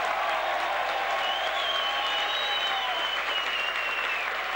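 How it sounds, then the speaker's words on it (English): Stadium crowd at a 1979 New York Cosmos versus Adelaide City soccer match cheering and applauding for Franz Beckenbauer, a dense, sustained roar with clapping and a faint whistle-like tone over it. "the big cheer is for Franz Beckenbauer"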